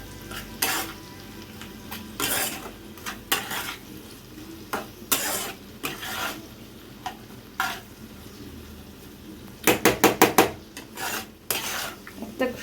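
Chili chicken frying in a pan with vinegar, a soft sizzle running underneath repeated scraping strokes of a spatula against the metal, with a quick burst of rapid stirring near the end.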